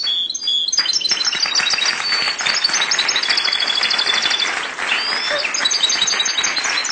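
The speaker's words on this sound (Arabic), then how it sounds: "هذا طبعا عصفور النغل جايبينه" A caged hybrid songbird, a cross between a canary and a goldfinch, sings loudly and up close with rapid, continuous trills and chirps, pausing only briefly.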